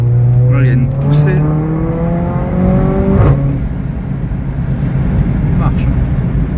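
Car with a 440 hp tune and a Milltek exhaust accelerating hard, a loud, rising engine roar heard from inside the cabin while people talk over it.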